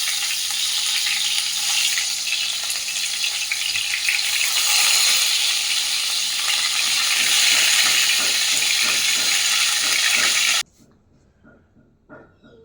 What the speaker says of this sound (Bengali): সর্ষের তেল দিয়ে মাছগুলো এবার ভেজে নেবো আমি একে একে।